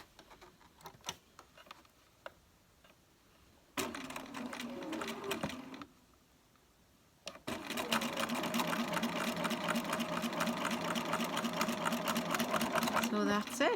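Bernina sewing machine fitted with Foot 64 stitching a narrow turned hem: two bursts of rapid, rhythmic mechanical chattering, a short run then a longer sustained one, with quiet handling clicks between.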